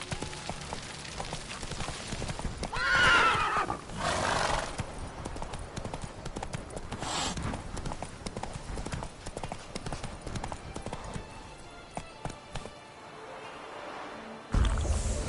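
Horse hooves clip-clop steadily in The Witcher 3: Blood and Wine, a continuous galloping rhythm layered with game ambience and occasional whinnies, loud and close throughout.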